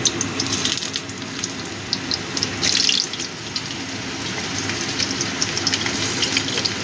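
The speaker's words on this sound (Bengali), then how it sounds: "তেলটা ভালো মতো গরম হয়ে গেছে। এবার আমি প্রথমে পেঁপেটা ভেজে নিচ্ছি।" Papaya pieces fry in hot oil for a mutton curry, giving a steady close sizzle with scattered crackles and a brief louder spatter burst partway through.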